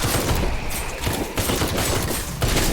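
Automated turrets in the game Night of the Dead fire in dense, rapid bursts, a loud, continuous crackle of gunfire with brief gaps between volleys.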